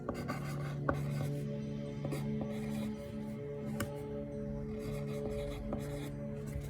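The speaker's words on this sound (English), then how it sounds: "I write on my little pieces of paper" Pen scratching and scribbling on small pieces of paper, close and fairly quiet, with short strokes and taps over a faint steady background hum.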